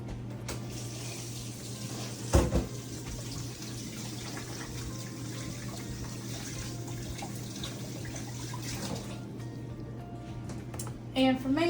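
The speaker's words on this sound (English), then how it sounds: "So let me wash my hands." Water runs steadily from a tap as hands are washed beneath it, a faint continuous splash with a sharper knock near the start; a person talks over the flow.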